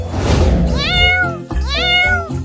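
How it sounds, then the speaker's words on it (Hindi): A cartoon kitten gives two drawn-out, rising-then-falling meows, loud and close, separated by a brief gap, with a soft background bed underneath. "वहाँ देख, हमारे घर में एक बिल्ली का बच्चा घुस गया है और वह दूध पी रही है।"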